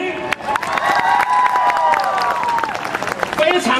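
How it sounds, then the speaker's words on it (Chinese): An audience at a gathering claps for a community chief, sustained applause with cheering voices and crowd noise filling the space, steady and fairly loud throughout. "我们给我们春日的头目掌声鼓励"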